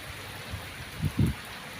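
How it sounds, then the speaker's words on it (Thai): Heavy rain pours down steadily outdoors, a constant broadband hiss with a couple of dull low thumps standing out near the middle. "ดูครับเห็นสายฝนไหมครับ ตกแรงมากครับ"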